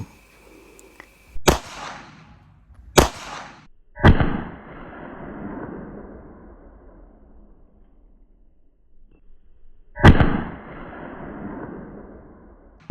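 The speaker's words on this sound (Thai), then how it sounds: "อันนี้แบบยิงแบบช้าๆให้ดูก่อนนะครับว่าการยิงดับเบิลแท็บเป็นยังไงนะครับ" A pistol fires at a shooting range as a paper A4 target is engaged, producing four loud, sharp shots spaced slowly apart. Each shot is followed by a long reverberant decay, with quiet gaps between them.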